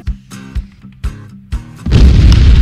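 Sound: artillery explosion in the video game Arma 3

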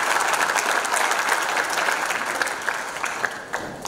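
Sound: applause

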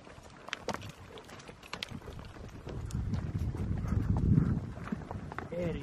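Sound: horse hooves clip-clopping while riding through mountains

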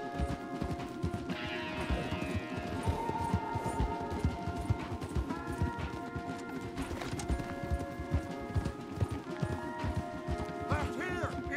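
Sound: horses galloping in Red Dead Redemption 2 video game

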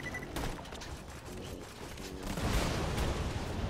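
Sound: grenade explosion and gunfire in the video game Borderlands 2

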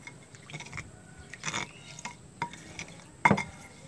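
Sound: stirring dabu-dabu balacang chili sauce in a bowl

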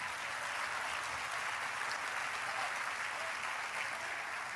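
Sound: applause

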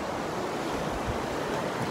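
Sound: mountain river flowing under a bridge

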